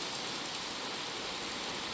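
Heavy monsoon rain pours down steadily in a continuous dense hiss, close and even throughout with no break or other sound.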